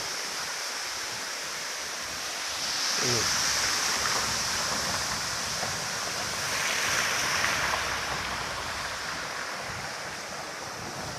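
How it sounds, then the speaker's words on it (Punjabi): Vehicles drive through rainwater on a flooded road, each pass swelling into a broad rushing splash, two main surges under a constant watery wash. "ਦੇਖੋ ਆ ਗੱਡੀਆਂ ਆਉਂਦੀਆਂ ਨੇ ਸਾਹਮਣੇ ਗੱਡੀਆਂ ਪਾਣੀ ਮਾਰਦੀਆਂ ਨੇ"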